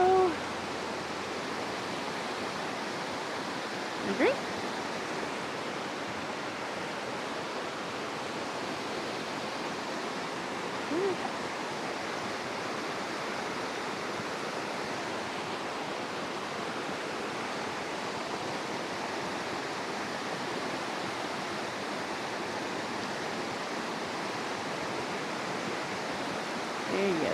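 Snowmelt water rushing steadily down Rock Creek, a broad, even wash of flowing water that stays loud and close throughout, with a brief spoken question near the start.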